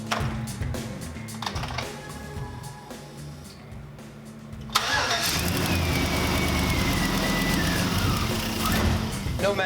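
An LS V8 swapped into an International Harvester 4x4 van, running without a mass airflow sensor, catches midway and then settles into a loud, steady idle close by, after a quieter stretch of background noise.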